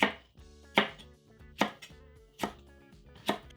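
Five sharp knife chops through vegetables into big chunks against a cutting board, evenly spaced about every 0.8 seconds, close and crisp, with no talking.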